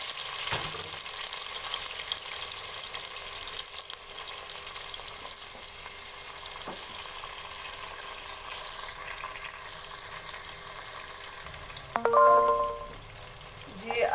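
Four large tomatoes fry in a tablespoon of oil in a pan with a low, steady sizzle, then flare into a brief, louder hiss and crackle near the end.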